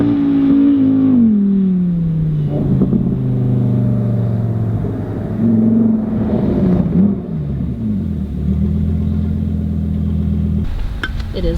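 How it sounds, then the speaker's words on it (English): A Lamborghini Murcielago lapping Lime Rock race track, its engine roaring loudly and steadily with shifting pitch as it accelerates and passes, with no voices over it. "you can hear that Lamborghini going around the track"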